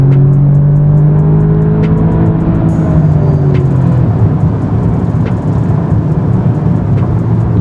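A 2018 Audi S3 with all-wheel drive accelerates at full throttle out of a corner, its engine a loud, continuous, close roar that holds strong throughout with steady humming tones.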